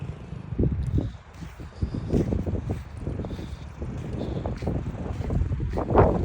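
Gusty wind buffets the microphone in uneven rumbling bursts, with a faint wash of surf and outdoor ambience underneath.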